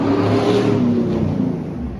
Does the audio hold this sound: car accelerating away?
yes